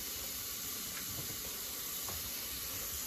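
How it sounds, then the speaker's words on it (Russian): Carrots and onions frying in a pan for lentil soup, a steady soft hiss and sizzle that holds evenly throughout with no talk. "немножечко поджарю морковку с луком, чтобы лук дал вот этот вот приятный вкус"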